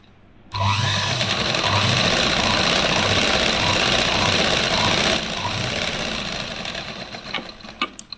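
A sewing machine runs steadily while stitching a blouse lining, a loud, continuous mechanical whir that holds for several seconds before easing off, ending with a few small clicks.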